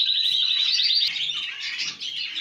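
Small yellow pet birds chirp in rapid, high twittering bursts that run almost continuously, close and moderately loud, with no talking.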